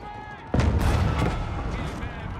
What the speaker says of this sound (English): Hitting that cannon or trebuchet quite nicely.